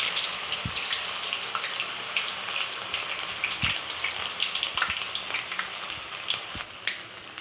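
Okra kebabs fry in hot oil over a low flame, giving a steady, dense sizzle that fills the whole stretch at close range, with a few faint knocks and bubbling pops throughout.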